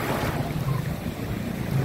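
Small, gentle waves at Tanjung Pakis beach on the calm north coast of Karawang, a faint continuous wash mixed with soft wind noise, with no voices.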